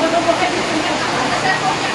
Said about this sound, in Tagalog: Ay, umuulan na tayo dito.